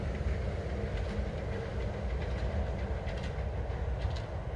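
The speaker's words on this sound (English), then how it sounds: "We got a monorail coming in." Disney World monorail pulling into a station at Magic Kingdom, a steady rolling rumble with faint wheel clatter and hum, fairly close and continuous throughout.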